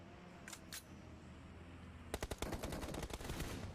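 Automatic weapon fire in the PUBG Mobile esports match, sounding as a rapid burst of sharp close shots that breaks in after a couple of faint clicks and keeps rattling steadily to the end.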